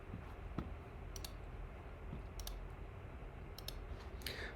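Rapid, light clicking from typing on a Keychron Q4 computer keyboard, with steady irregular keystrokes close by and sharper clacks now and then over a quiet background hum.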